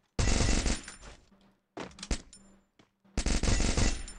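Mini Uzi submachine gun in a video game fires loud, close, rapid automatic bursts: a long burst, a short broken one, then another long burst, with brief silences between.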